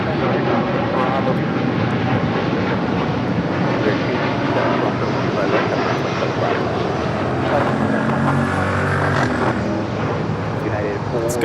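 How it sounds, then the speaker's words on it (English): An American Airlines Boeing 787-8 Dreamliner takes off from a runway at Los Angeles International Airport, its jet engines giving a loud, steady roar throughout that swells and brightens toward the end, with faint talk underneath. "This is American Airlines flight 27 taking off to Tokyo Haneda on a 787-8 Dreamliner."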